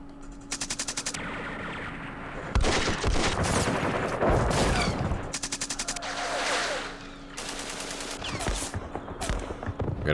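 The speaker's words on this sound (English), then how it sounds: "let's use the machine gun here first." Machine gun fire in the wargame Campaign Series Vietnam, rapid bursts of automatic shots repeating in several loud volleys with short gaps and rumbling explosions between them.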